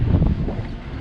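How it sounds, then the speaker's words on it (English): Strong wind at a Great Australian Bight campsite buffets the microphone beside a LandCruiser, a loud continuous low rumble filling the short moment. "Crazy the wind."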